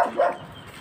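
A guard dog barks twice in quick succession at close range, short sharp yaps within under a second, heard outdoors early in the morning with no talk over it.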